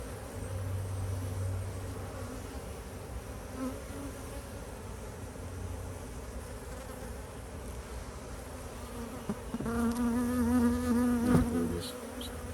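Honeybees swarm and buzz around an open hive at an apiary, a dense, continuous drone close by, with a louder bee passing near toward the end and no talk.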